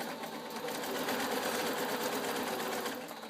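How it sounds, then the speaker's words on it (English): A Singer 6180 sewing machine stitches fabric in a continuous rapid, rhythmic whir, close and steady for the whole stretch, with no talking. "you're sewing"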